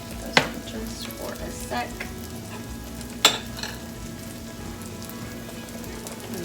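Bacon crackles and sizzles in a pan, a close steady fry punctuated by two sharp clatters of stirring or a utensil on the pan; a brief word is spoken.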